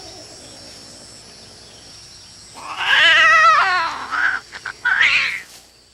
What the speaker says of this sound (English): She gives a loud cry and throws him off.